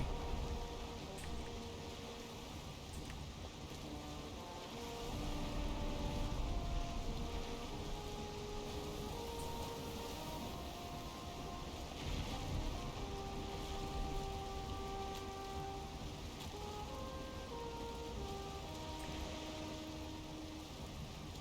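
Steady rain and stormy weather at sea in the video game Valheim, a continuous hiss of rainfall over a low rumbling bed, with faint tonal game sounds drifting underneath and a swell in intensity partway through.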